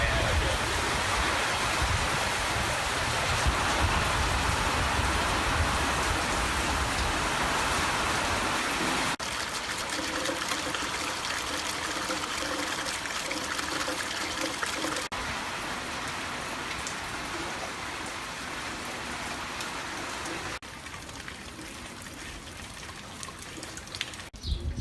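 Steady rain from a passing storm falls outdoors on an overcast day, a continuous hiss of drops pattering on surfaces, heavier and denser at first, then easing slightly with occasional trickling, no talking.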